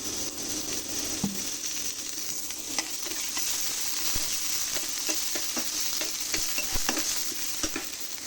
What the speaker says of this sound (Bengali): এই শুটকিটার জন্য ভর্তা তৈরি করার জন্য আমি প্রথমে কিছু পেঁয়াজ ভেজে নেব